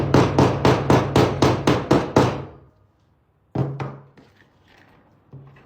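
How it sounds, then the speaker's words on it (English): A hammer taps metal expansion anchors into drywall, starting with eight quick, sharp blows in a steady rhythm. After a pause come a single firmer knock and a few faint taps. "No drilling, just tapping a drywall."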